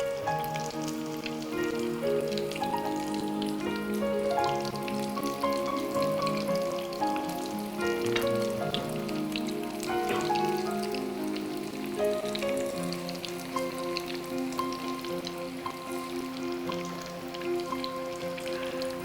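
Kerala-style fish cutlets fry in hot oil with a steady fine crackle and patter, much like light rain, running continuously beneath prominent background music.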